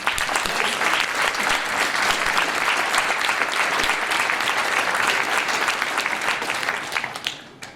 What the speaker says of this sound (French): Je souhaiterais qu'on applaudisse.